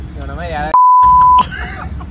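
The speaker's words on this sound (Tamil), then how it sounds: "நான் அதை மியூட் பண்ணிடுறேன், பீப் சவுண்ட் போட்டுறேன்." A single steady censor beep tone, loud and flat, cuts in for about two-thirds of a second between stretches of casual speech at a food outing, replacing a muted word.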